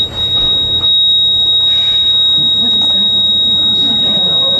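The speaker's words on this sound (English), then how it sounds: "Fire alarm." A fire alarm buzzer sounds continuously at one steady, loud pitch, while a person speaks briefly over it amid background room noise.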